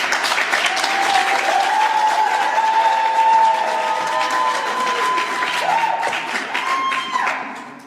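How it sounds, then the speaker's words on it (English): A graduation crowd at Alpha Learning Centre gives a loud round of applause mixed with cheering and whistles, sustained and close, tapering off at the end. "great round of applause, ladies and gentlemen. Make some noise for it."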